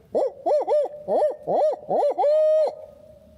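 A turkey hunter in pine woods imitates an owl with a rhythmic series of hoots, six short calls then a longer drawn-out one, loud and close.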